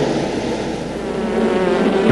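Dense, steady insect buzzing like a swarm of bees, a continuous drone with no talk, swelling slightly louder toward the end.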